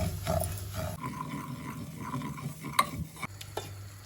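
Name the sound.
semolina being roasted and stirred in ghee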